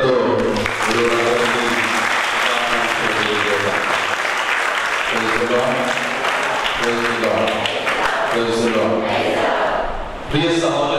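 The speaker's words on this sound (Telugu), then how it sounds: "ఇప్పుడు వారందరి కోసం మనందరం గట్టిగా చప్పట్లతో" A church congregation at a Catholic Holy Thursday foot-washing service breaks into sustained loud applause, with chanting or singing voices rising in bursts over the clapping.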